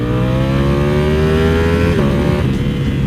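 A loud carbon-bodied V4 SP motorcycle engine holds a high whine, then drops in pitch as it downshifts from second to first, with a sharp pop near the end.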